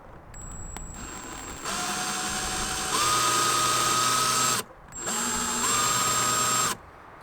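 A small power drill works on the windshield glass of a 2020 Dodge Challenger during a repair, whining loudly and close in steady bursts that rise in pitch, pause briefly, then resume before cutting off.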